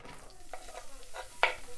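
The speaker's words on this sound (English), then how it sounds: "Sizzle." Soft, steady sizzling of oil frying in a pan, with faint stirring scrapes and one brief louder crackle near the end, as onions go in for an Iraqi green bean stew.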